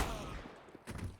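SMG fire in Counter-Strike on Dust2 during a tournament match, a faint, brief burst of rapid shots in the distance heard under general game noise.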